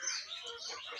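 Quail on a poultry farm give a few faint, high chirps and twitters over about a second, then a slightly louder, sharper call at the very end.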